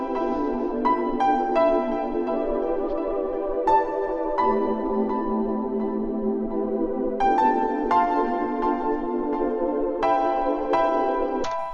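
Melodic synth line for a hip-hop beat, with a sustained mid-range chord bed under plucked, bell-like notes in a steady repeating pattern, playing loud and alone with no drums or voices.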